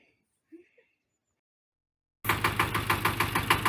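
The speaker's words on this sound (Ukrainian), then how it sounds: "Чую, трактор завівся." A tractor engine bursts in loudly after a couple of seconds of near silence, settling into a steady, rhythmic low chugging idle that runs to the end.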